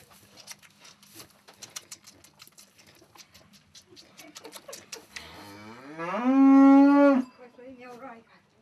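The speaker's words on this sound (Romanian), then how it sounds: "mugi după dânsul, caută." A cow in a family farmyard in Gemenea lows for its suckling calf: one loud, drawn-out moo near the end, preceded by faint rustling and light bird chirps.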